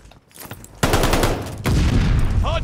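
Gunfire in a Call of Duty: Vanguard multiplayer match, with loud bursts and rapid shots starting near one second and growing heavier from the middle to the end.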